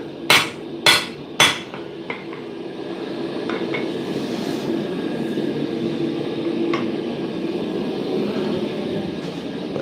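Three sharp hammer blows ring out close and loud as high carbon and mild steel are lap welded on a forge for a socketed chisel, followed by a few fainter taps and a steady background roar of the forge.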